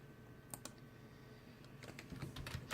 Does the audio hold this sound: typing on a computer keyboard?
yes